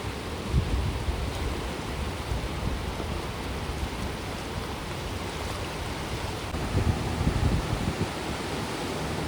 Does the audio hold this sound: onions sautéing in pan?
no